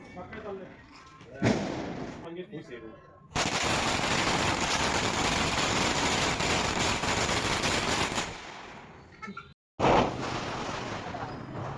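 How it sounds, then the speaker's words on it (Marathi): Firecrackers burst during Lakshmi Puja celebrations in a dense, rapid crackling barrage lasting several seconds, loud and close, with scattered bangs and voices before and after. "त्यानंतर मात्र वेळ आली ती म्हणजे फटाके फोडण्याची"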